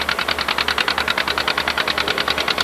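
A tractor engine runs close by in a steady, fast knocking rhythm of evenly spaced pulses, loud and continuous with no voices over it.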